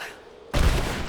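A video game grenade explodes suddenly with a loud, heavy, broadband blast after a quieter stretch, and the rumbling burst holds steady to the end of the moment.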